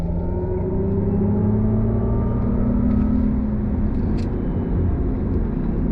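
A 2023 Mercedes-Benz EQE 350 electric sedan accelerates on throttle, heard from inside the cabin as a steady low whir and road rumble that slowly rise in pitch, with no talking.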